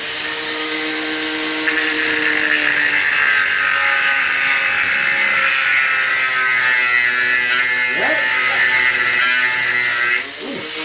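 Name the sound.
grinder cutting on a car CV joint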